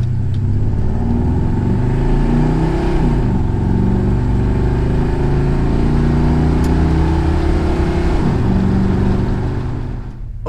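Car fitted with an Edelbrock Performer 1406 carburetor accelerating hard from 0 to 60 mph, a loud, close engine climbing steadily through the gears with a brief shift dip, then easing off at the end.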